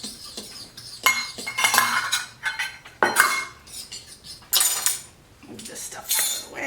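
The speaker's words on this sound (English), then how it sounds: "We're going to just mix that all together." Batter ingredients with all-purpose flour mixed by fork in a bowl, giving irregular bursts of scraping and clinking metal against dish, some sharp, with short pauses between strokes.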